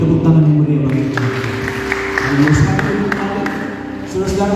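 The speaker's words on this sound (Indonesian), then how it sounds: "Tepuk tangan yang meriah bagi Tuhan." A church congregation applauds at a worship service, a dense steady wash of clapping mixed with voices and a sustained musical tone underneath, continuing throughout.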